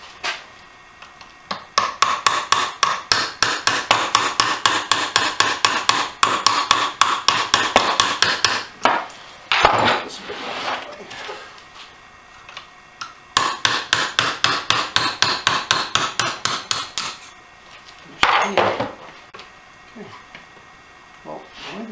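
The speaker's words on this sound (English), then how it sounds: "you just kind of use a hammer and a punch and you knock it back" A hammer drives a punch against a pin in the third shaft of a gearbox, knocking it back out: two long bursts of rapid, sharp metallic strikes, close and loud, each followed by a few heavier separate knocks.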